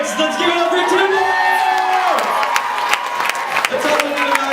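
A school variety show audience whoops, cheers and claps loudly for a performer, with excited young voices shouting over steady applause and sharp claps cutting through.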